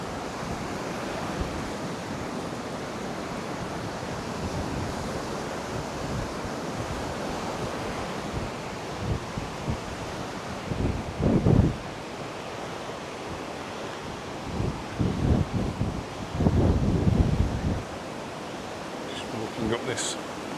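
Strong wind buffets the coast at Paguera, Mallorca, a steady roaring rush with surf-like noise and louder gusts thumping into the microphone near the end, and someone speaks briefly.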